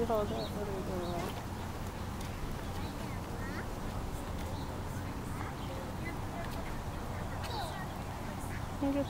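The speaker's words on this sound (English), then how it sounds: "See the ducks?" Ducks at the Detroit Zoo give scattered quacks over a steady murmur of crowd chatter and outdoor background noise, the calls faint and intermittent rather than continuous.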